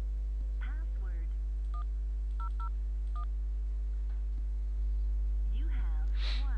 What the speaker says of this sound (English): So let's redial again and see the difference.